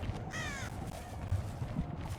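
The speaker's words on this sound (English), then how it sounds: "did they disturb some crows back here?" A crow caws in Dead by Daylight, a short burst of harsh calls near the start over a low ambient game drone, with faint thuds after.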